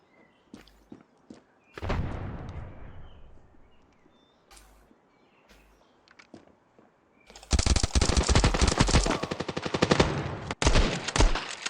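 Gunfire in the mobile FPS game Standoff 2: scattered single shots and footsteps, then a long dense burst of rapid automatic fire with a shotgun blast, loud and close, no talking.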